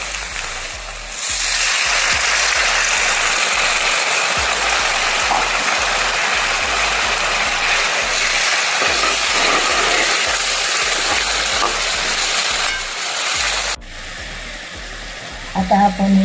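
Boiled tamarind tipped into a pan of onions frying with chili powder, setting off a loud, steady hissing sizzle that lasts about twelve seconds before cutting off abruptly.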